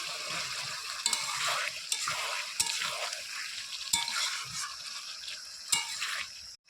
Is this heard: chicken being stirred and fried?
yes